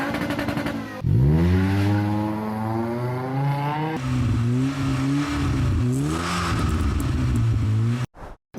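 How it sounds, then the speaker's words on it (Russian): Volvo S40 II with a custom exhaust revving up close, several rising and falling throttle blips over a deep steady idle, loud and without talk, cutting off abruptly at the end. "А кастомный выхлоп."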